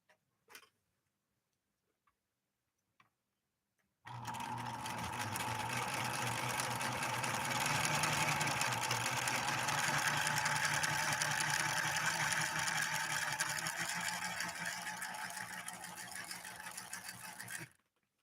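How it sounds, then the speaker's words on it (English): A 1970s Viking 3600 sewing machine starts after a few quiet seconds and runs a blind hem stitch, a loud steady rhythmic whirring and ticking that holds for about fourteen seconds before stopping. "Let's try to get this blind hem stitch done."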